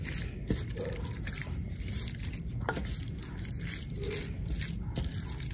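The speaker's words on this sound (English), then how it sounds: "that's why I'm adding the broth" Chicken broth is poured into shredded chicken tinga, making a faint, steady liquid trickle with a few soft drips and splashes, close and quiet, with no talking.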